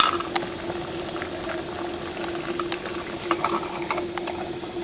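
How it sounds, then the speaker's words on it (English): Water bubbles at a vigorous rolling boil on an MSR Reactor camp stove, a constant hissing, churning sound with small pops throughout, close and steady. "it's at a pretty good rolling boil now"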